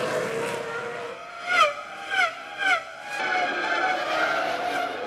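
Formula 1 race cars in the 2002 season, Montoya's double overtake on Raikkonen and Ralf Schumacher, with high-pitched engines screaming past and three quick rising-and-falling passes in a row, then a sustained engine whine.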